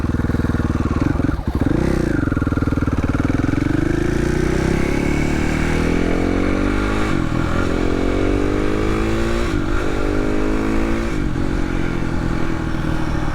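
A 2016 KTM 450 XCF dirt bike rides through a neighborhood, its single-cylinder engine loud and close throughout, rising and falling as the rider shifts and accelerates repeatedly.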